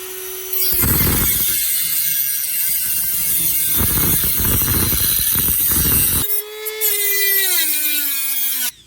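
A rotary tool with a thin cutting disc bites through thin metal, producing a loud, high grinding whine that rises and falls as the disc cuts along a line, then winds down after the spin-up.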